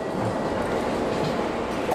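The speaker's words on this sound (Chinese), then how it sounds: "我们坐火车去旅行又继续了" A train runs along the rails in Japan, a steady close rumble of wheels and carriage noise that fills the whole moment without a break.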